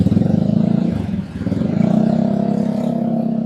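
A motorcycle engine revs loudly nearby, dipping briefly then rising again into a steady pulsing drone amid Bangkok traffic.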